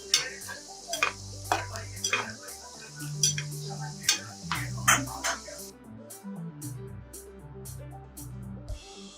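Jackfruit chips fry in hot oil with a steady crackling sizzle, while repeated sharp clinks and scrapes of a metal spoon stirring the pan ring out close by at an uneven rhythm.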